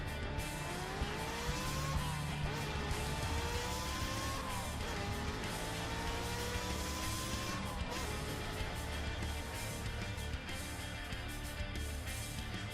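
Mini trucks race around a track, their engines droning and revving in rising and falling whines that overlap continuously, with a constant loud rumble underneath.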